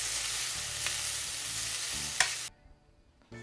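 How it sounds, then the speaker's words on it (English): Chopped vegetables hiss and crackle loudly in a hot pan, a steady sizzle with a few utensil clinks before it cuts off. "My finely chopped veggies are sizzling away in the pan."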